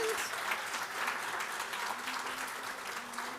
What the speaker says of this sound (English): can we also give a round of applause to our board of directors?